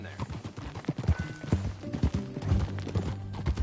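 Horse hooves clip-clop at a riding pace in Red Dead Redemption 2, rhythmic thuds under talking voices and game background sound.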